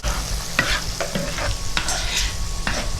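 Venison gravy sizzles and bubbles in a big skillet, a close, steady frying hiss with scrapes and clinks of a stirring utensil at intervals.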